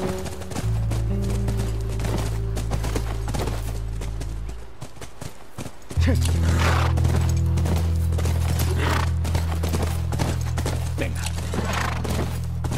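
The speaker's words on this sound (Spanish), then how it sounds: "Es nuestro caballo" Hoofbeats of a horse in the video game The Last of Us, clip-clopping in a rapid rhythm over a steady low game soundtrack drone, with a horse whinny and a brief spoken word partway through.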